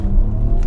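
A 2025 Porsche Macan Electric floored in sport mode gives a brief, steady low rumble and road hum from inside the cabin, fairly loud and without talk.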